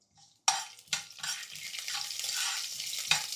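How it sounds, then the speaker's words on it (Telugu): Mustard seeds and cumin drop into hot oil for a simple pappu charu tempering, setting off a sharp crackle and a rising sizzle. A few metal clinks and stirring scrapes sit on top, close and clear. "ఆయిల్ కొద్దిగా వేడైన తర్వాత 1/2 టేబుల్ స్పూన్ ఆవాలు, 1/2 టేబుల్ స్పూన్ జీలకర్ర."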